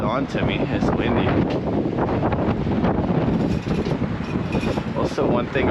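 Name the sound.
wind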